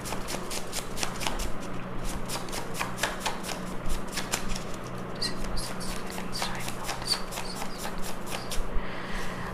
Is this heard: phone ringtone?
no